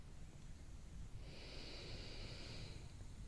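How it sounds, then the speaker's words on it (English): Slow, steady breathing through the nose during a relaxation exercise, a soft airy hiss that rises and holds, close and quiet with no talking. "just breathing steadily through the nose"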